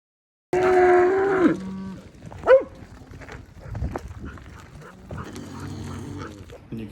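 Cattle low and moo nearby in a few drawn-out calls as a herd is pushed up into working pens, with shuffling and scattered knocks around them and faint background noise.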